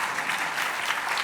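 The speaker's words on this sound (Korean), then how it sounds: "수고한다고 박수 한 번만 주시면 좋겠습니다" A church congregation claps for the worship team, a brief burst of dense, steady applause filling the room with no break.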